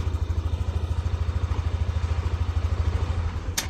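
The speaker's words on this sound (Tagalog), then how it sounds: "Umaandar yung motor." A Yamaha NMAX scooter engine idles steadily up close, a low, evenly pulsing putter that runs alone throughout, with a brief sharp click right at the end.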